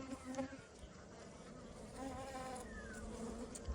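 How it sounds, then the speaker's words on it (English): A honeybee drone buzzes steadily and close by amid the drone-heavy hum of a beehive, a continuous insect drone with no speech. "That really big bee in the middle there, that's a drone."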